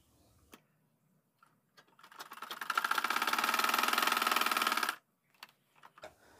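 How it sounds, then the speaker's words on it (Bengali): A sewing machine stitches kameez fabric in a fast, rhythmic mechanical run of about three seconds. Isolated clicks and taps from handling the fabric come before and after, and the room is otherwise quiet. "তো এখানে সিম্পলভাবে আমি একটা সেলাই করে নেব।"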